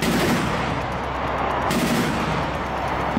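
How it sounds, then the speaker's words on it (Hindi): Sustained, dense gunfire from a war scene in Sudan, with tanks in the city, runs as a continuous loud rattle of rapid shots and blasts for the whole stretch, with no voices. "गोलियों की आवाज़ हो"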